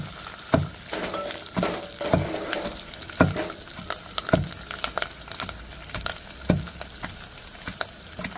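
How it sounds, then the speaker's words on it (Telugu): Hot oil sizzles steadily as a crushed-spice tempering for gongura dal fries, with periodic scraping knocks of a spoon stirring the pan, close and fairly loud. "బాగా ఫ్రై చేసుకోవాలి తాలింపు."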